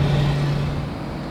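Rivian R1T electric pickup hauling a large trailer on the road, giving a steady rolling road and drivetrain rumble with a low hum held throughout, close and moderately loud, with no talk.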